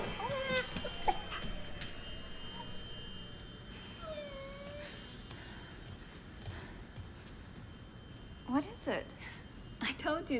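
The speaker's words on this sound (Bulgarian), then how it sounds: "Кучето!" A dog gives scattered high whimpers and short yips, with rising and falling whines, amid people talking and background noise.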